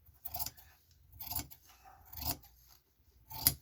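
Four crisp snips of scissors cutting, evenly spaced, close by and fairly quiet, with short pauses between each cut.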